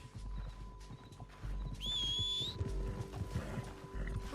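A horse in a video game clip-clops with steady, close hoofbeats, and a sharp whinny rises over them midway, with a little faint talk in the background.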